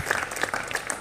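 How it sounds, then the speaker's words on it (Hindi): Audience applause on a TV auction game show after a winning bid on a car, a short burst of close, crisp clapping from several people. "जोरदार तालियां"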